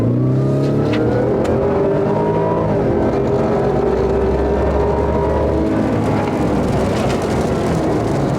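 A Ford Raptor R pickup fitted with a Whipple supercharger accelerating hard on a wet road, its engine roaring loudly and continuously as revs climb through several sustained pulls, close and alone without talk.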